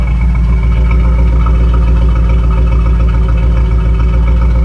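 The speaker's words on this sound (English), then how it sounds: "that aggressive tone that lets you know it's a V8 Camaro" A 1984 Chevrolet Camaro V8 runs steadily at idle, its loud, deep exhaust rumble close and constant with no change in pace throughout.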